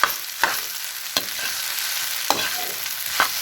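Vegetable fried rice is stirred in a hot pan, a continuous sizzle broken by a few sharp scraping knocks of the utensil against the pan at irregular intervals, close up and without voices.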